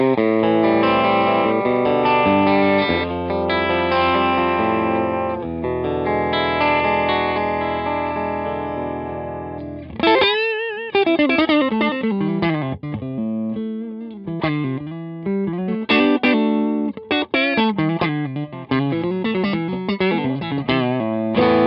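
An electric guitar plays through a Chellee Odie overdrive pedal, first as sustained, ringing chords, then as a run of picked single notes with a gritty, driven tone, all close and loud with no talking.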